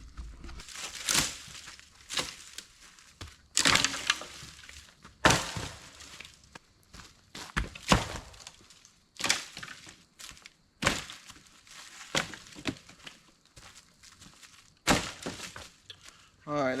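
Sticks snapping and cracking outdoors while firewood is gathered for a campfire at a solo campsite, a series of sharp irregular breaks and crunches, some loud and close, with quiet rustling between them.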